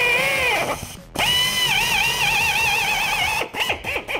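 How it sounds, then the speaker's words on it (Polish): A pneumatic drill fitted with a thin 6 mm bit bores into a wooden block, its loud whining motor rising and dipping in pitch, cutting out briefly once and stuttering near the end. "spróbujemy wywiercić otwór w klocku drewnianym."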